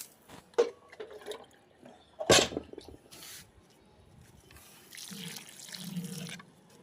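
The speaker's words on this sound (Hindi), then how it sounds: "यहाँ पर भरपूर मात्रा में मैं पानी डाल दी हूँ पूरा अच्छा तरह से 2 बार" Water is poured over a potted Harsingar (Parijat) plant, with scattered splashes and trickles, one sharp gush near the middle and a softer steady pour toward the end.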